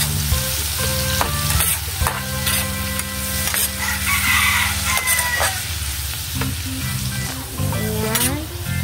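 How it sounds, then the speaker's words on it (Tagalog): Pork sotanghon with tomatoes sizzles steadily in a hot pan while a utensil stirs and scrapes through it, a continuous close frying hiss with a rooster crowing in the background. "Ihalo-halo po."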